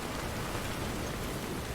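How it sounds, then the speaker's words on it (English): Heavy rain pouring down in the video game Death Stranding, a constant even wash of noise, fairly quiet and alone without talk. "if there's rain this bad here"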